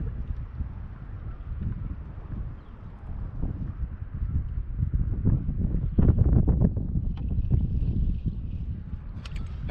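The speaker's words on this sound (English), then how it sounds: "the wind's kicked up and it's just blowing me through." Strong gusting wind buffets the microphone on a kayak out bass fishing, a constant low roaring rumble with a few knocks and splashes near the boat, loud and continuous without speech.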